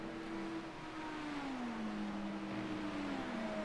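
A race car in an IMSA racing video game sweeps past, its engine tone sliding steadily lower as it goes by, heard against a constant engine and road drone.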